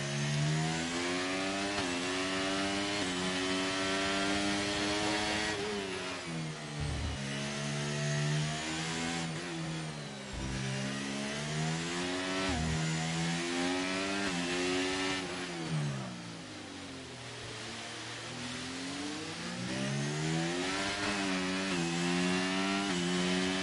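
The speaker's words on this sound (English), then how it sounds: "I'll just let you listen to the engine." Racing car engines in a sim racing game at a Singapore Grand Prix, loud and continuous with repeated revving and gear changes as the pitch climbs and drops, heard alone.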